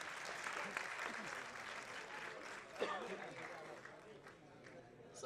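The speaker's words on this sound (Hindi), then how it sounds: "एक बार जोरदार तालियां।" Applause from an audience at a public event in India, a steady wash of clapping that fills the whole stretch at moderate distance, with crowd murmur and some voices mixed in.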